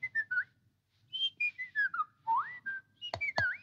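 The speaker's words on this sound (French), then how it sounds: "il se mit tout bonnement à siffler" A baby whistles a lively run of short, bright notes with rising and falling slides, ending in two sharp upward swoops; a clear solo whistle with no talking.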